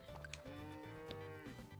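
A cow in the farming video game Story of Seasons: Friends of Mineral Town lets out a long, clear, steady moo, close and prominent, with no talk.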